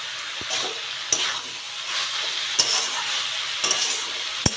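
Banana blossom cooking with prawns, stirred and fried in a pan, gives a steady sizzle with scraping spatula strokes and a few sharp clinks throughout, close and alone with no voices.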